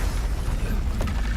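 An Incendio fire spell fires in Hogwarts Legacy, a short loud whoosh-and-boom of flame with dense low rumble and a brief sharper burst near the end, close and with no voices.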